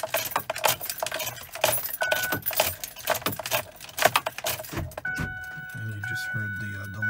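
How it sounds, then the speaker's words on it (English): Sharp mechanical clunks of a 2008-2010 truck's door locks actuating in quick succession as the key is cycled, close by, mixed with small metallic clicks and someone talking. "Heard the locks cycle"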